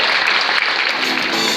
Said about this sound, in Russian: Аплодисменты вам